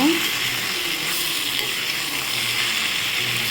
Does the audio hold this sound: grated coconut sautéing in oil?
yes